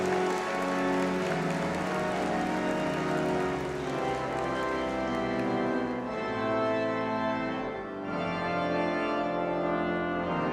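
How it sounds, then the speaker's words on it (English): A graduation ceremony audience claps as a dense, continuous roar of many hands, loud and steady throughout and dipping briefly near the end. "I think you all deserve a huge round of applause."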